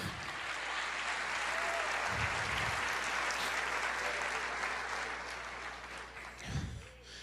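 Church congregation applauding steadily throughout a service, a dense, continuous wash of clapping from many hands that fills the room, with a voice briefly audible under it.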